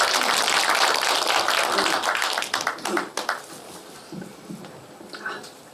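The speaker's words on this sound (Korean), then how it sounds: "여러분 박수로 맞이해 주시기 바랍니다" An audience applauds to welcome a mezzo-soprano singer at a Korean book launch event, dense clapping at first that thins out into scattered claps, with no talk over it.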